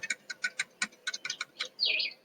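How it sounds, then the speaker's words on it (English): Birdsong outdoors: a rapid series of short, bright chirps in an even rhythm, ending in a longer descending trill, clear and fairly close. "bird song, which I particularly love"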